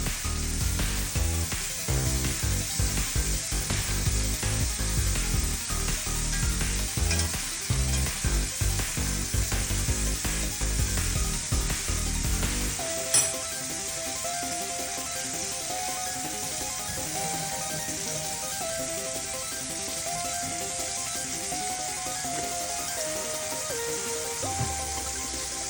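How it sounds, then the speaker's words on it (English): A T-bone steak fries in butter in a pan with loud, dense crackling and sizzling close by. Halfway through the sizzle settles into a steadier, smoother hiss that carries on to the end. "I'm going to add a little bit more butter."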